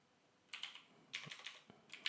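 Typing on a computer keyboard while data is entered into a sheet: three short clusters of quiet, crisp key clicks separated by brief pauses, soft and close, with no talking.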